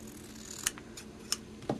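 Scissors cut fabric for applique, giving a few soft, sharp snips spaced apart over a low background hum, close and quiet.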